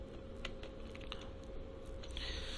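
Someone types on a computer keyboard, with quick irregular clicks and clacks of keys that run close and fairly soft over a low steady hum in the room, without any talking.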